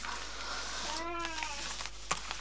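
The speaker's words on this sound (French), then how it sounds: "Pourquoi tu miaules quand on fait ce sujet?" A cat meows indoors, a rising and falling harmonic cry lasting about half a second, heard against a steady background hiss with a few faint clicks.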